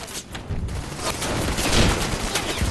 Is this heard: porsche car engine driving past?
no